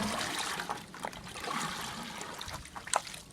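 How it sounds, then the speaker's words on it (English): Water pouring into a bucket that holds big spider crabs, making a steady close splashing trickle with a few brighter drips and sloshes. "We're going to fill the bucket up full of water."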